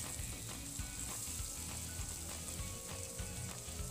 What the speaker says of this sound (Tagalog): Isaute po ito hanggang sa maging golden brown.